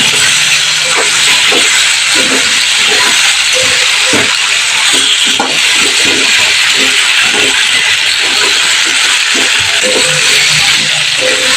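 Dhoka lentil cakes frying in oil for a Bengali dhokar dalna, a steady dense hiss of sizzling throughout with scattered clinks and scraping of the pan, loud and close.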